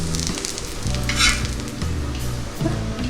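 Beetroot dosa sizzles steadily on a hot pan, a loud continuous frying hiss with a brief brighter crackle near the middle, heard alone with no talking.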